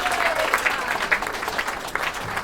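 Comedy club crowd applauding the wait staff on a Thursday night, a continuous busy patter of many hands with scattered louder claps, fairly loud and unbroken.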